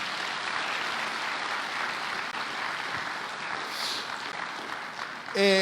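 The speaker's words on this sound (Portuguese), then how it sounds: "Vocês podem aplaudir a Jesus" A church congregation at a Bible school gathering claps in sustained, even applause that fills the room alone, ending with a brief voice or sound at the very close.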